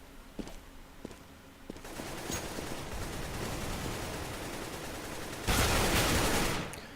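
Gunfire from a Counter-Strike: Global Offensive match on the Inferno map, with scattered sharp shots early, then a sustained noisy burst of fire near the end, loud and close over game ambience.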